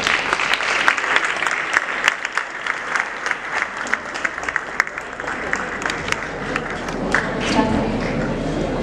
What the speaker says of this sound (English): Have a big round of applause, guys.